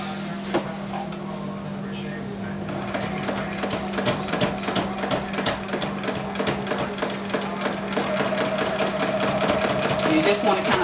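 A sewing machine stitching a child's hat runs in a steady close rhythmic clatter that speeds up and grows slightly louder over time, with a constant hum beneath.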